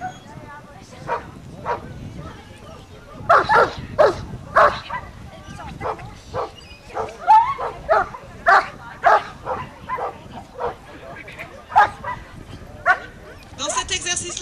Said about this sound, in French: C'est un très très jeune chien.